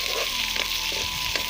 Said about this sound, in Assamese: পিঁয়াজখিনি মই এনেকৈ ভাজি লৈছোঁ,